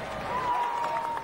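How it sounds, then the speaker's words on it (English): A crowd outside a cinema gala on a drizzly November night, cheering and clapping in a short, steady burst at moderate distance, with a thin whistle-like tone over it. "The crowd cheers, their spirits undampened by the light November drizzle."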